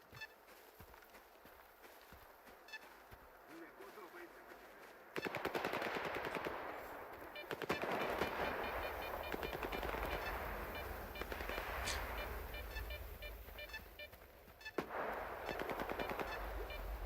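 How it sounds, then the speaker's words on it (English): Bursts of automatic gunfire aimed at the player in the S.T.A.L.K.E.R. 2 video game, opening quietly, then erupting into loud sustained rapid fire with brief pauses, joined by footsteps, no talking. "Am I getting shot at?"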